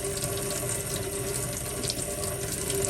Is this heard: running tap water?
yes